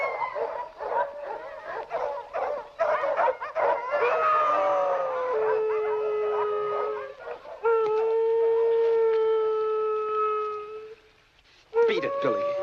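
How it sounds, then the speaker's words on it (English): Several dogs howl and bark in a loud, close chorus, long wavering howls broken by sharp barks and yips, easing into quiet near the end before one last howl starts. "Don't know what's bellyaching those dogs."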